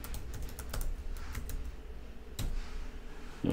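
Bursts of typing on a computer keyboard as a password is entered during software setup, close crisp key clicks in quick runs with brief pauses between them.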